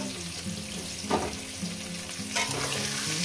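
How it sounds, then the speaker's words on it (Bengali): Potatoes frying in a pan for a spicy chicken kosha, a steady close sizzle with two louder bursts of stirring and scraping partway through. "আলুগুলো ভেজে নেব"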